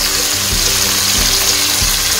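Chicken biryani masala sizzles in a pan with a constant loud hiss, and a few soft scraping thumps mark the stirring at a regular pace.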